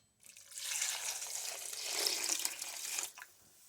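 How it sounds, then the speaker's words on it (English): Water pours from a tap into a pot of partially peeled potatoes, a steady splashing rush lasting about three seconds before cutting off, fairly quiet with no talk. "So I'm just going to cover it with water and let it cook until the potatoes are tender."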